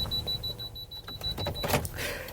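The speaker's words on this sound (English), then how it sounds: "ignore the beeping" A rapid electronic beeping, a thin high pulsing tone repeating steadily, runs under room noise for most of the moment and stops just before some handling sounds.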